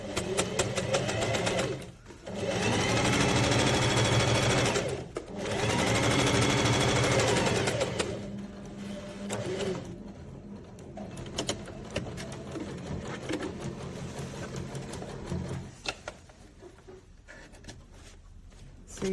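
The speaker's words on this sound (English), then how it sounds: "So we're going to start sewing from there, from where the other stitch line was, exactly over the top" A sewing machine stitching a pin stitch along the edge of an in-seam side pocket, running in loud continuous bursts with short pauses, then a quieter, choppier stretch of stitching.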